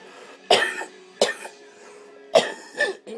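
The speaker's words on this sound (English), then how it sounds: "Your cough doesn't bother me" Someone coughs in several short bursts: a pair of harsh coughs, then another after a pause, then a final pair, all close and loud in a quiet room.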